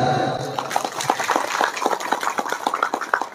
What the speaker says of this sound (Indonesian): Tepuk tangan mulai.